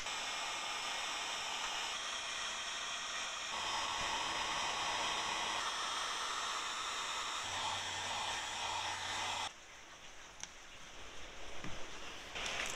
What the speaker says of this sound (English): I'm gonna heat shrink all these up.